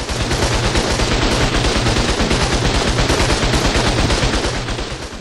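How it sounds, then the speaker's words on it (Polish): Dense, continuous gunfire and turret shots in the video game ARK Survival Evolved, a loud rapid rattle of overlapping bursts that keeps up steadily with no pauses. "tu sobie strzelam, a tam działka z kolei też strzelają w coś, co podchodzi"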